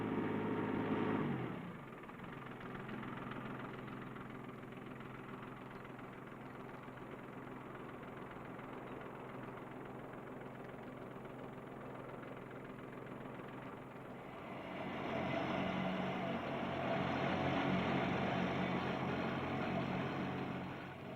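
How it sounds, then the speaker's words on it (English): A 1983 Ford 1210 compact three-cylinder diesel tractor runs a hydraulic turf cutter, giving a steady, loud engine drone throughout that swells louder in the final stretch. "This turf cutter is tapped into the hydraulic system of the 1210"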